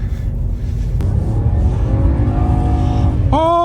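A BMW 335i engine accelerates hard, its note climbing steadily over loud road and wind rumble, then jumping higher in a sharp rev at the end.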